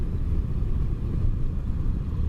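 A low-revving pushrod motorcycle engine drones in a steady, deep rumble at close range, with no talking over it.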